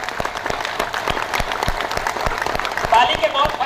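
Seminar audience clapping in a steady, rhythmic unison beat, sharp repeated claps at a fairly even tempo, with a brief surge of louder noise near the end.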